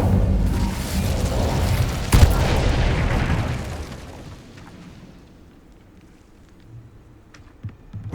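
A broad roaring whoosh of an Incendio fire spell cast in Hogwarts Legacy, with a sharp crack partway through, then the flames fade to a low rumble and scattered faint clicks.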